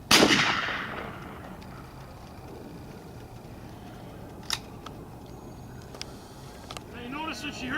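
A single gunshot fired outdoors during bird dog training, a sharp distant crack standing out briefly over a quiet open-field background, followed later by faint rustling and a couple of small clicks.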